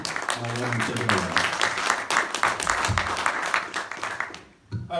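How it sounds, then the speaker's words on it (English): Audience applause at a blockchain and crypto business convention greets speaker Eric Weaver, dense steady clapping filling the room for several seconds before fading out near the end, with some voices mixed in. "Let's give him a round of applause to get him started."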